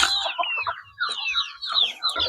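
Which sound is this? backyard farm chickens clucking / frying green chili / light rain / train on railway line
backyard farm chickens clucking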